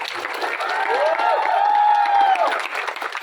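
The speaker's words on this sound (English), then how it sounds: "Can we have a huge round of applause" A crowd at a college song launch cheers and whoops with a loud, sustained swell that peaks mid-clip and then tapers off, with shouting voices woven through.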